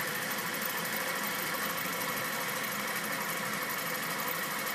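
A Green Engine distiller engine runs steadily, driving water pumps for the boiler and condenser, with a continuous mid-pitched mechanical whir and faint rapid ticking that stays even throughout, with no voices.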